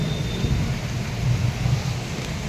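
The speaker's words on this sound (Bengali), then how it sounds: "মেঘ ডাকছে, শুনতেই পাচ্ছ।" Deep rolling thunder rumbles through a heavy downpour, a loud low growl over the constant dense hiss of rain, heard close and without any talking.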